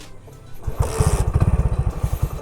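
A Hero Splendor motorcycle engine catches after a kick start, a sudden close burst followed by a rapid, even putter of firing pulses that settles into a steady idle.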